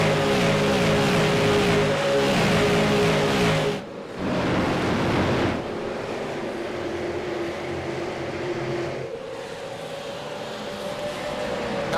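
Super Late Model race cars racing at Richmond, a loud continuous engine roar from a pack of cars that shifts in pitch as they pass, with no talking.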